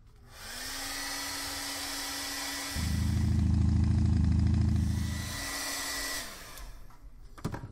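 A hair dryer blows steadily and close over wet acrylic paint in an art journal, its motor pitch dropping into a louder, deeper roar midway before easing back and switching off, with no voices.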